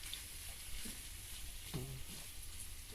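Tomato paste sautés with pork ribs in a pan, giving a steady, soft frying hiss with a brief utensil scrape partway through.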